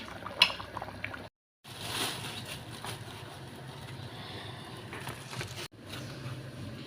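Meat and vegetable curry bubbling in a pot, a steady close simmer with liquid gurgles and brief breaks.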